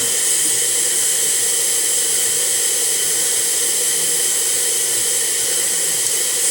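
A Cremina espresso machine's steam wand runs with a loud, continuous, even hiss that holds steady from start to finish with no talk.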